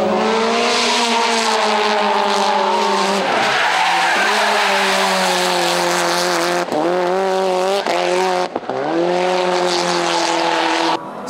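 A rally car drifts nearly sideways, its tires squealing in long continuous howls over a loud engine, heard from inside at close range with brief breaks as the slide shifts.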